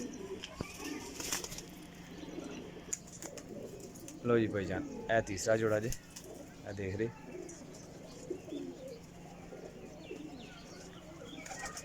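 Breeder pigeon pairs coo in a loud cluster of throaty, rolling calls, with someone talking over the birds before and after the cooing.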